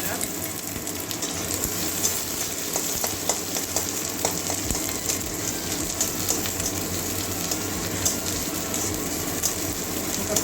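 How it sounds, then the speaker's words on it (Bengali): Chopped onions frying with mustard seeds and chili in a pan for a Bengali okra-poppy-seed dish, a steady close sizzle with scattered stirring clicks and spatters throughout, no talk. "এবারে পেঁয়াজ কুচি দিয়ে দেবো সর্ষে লঙ্কা ভাজা"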